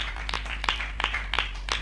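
Audience clapping during a Hindi Christian sermon: steady, evenly spaced claps in a regular rhythm, moderately loud, over a low constant hum.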